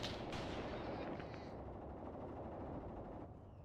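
Distant machine gun fire on a World War II battlefield in the Mius Front game, a dull, continuous low rumble of bursts with no speech.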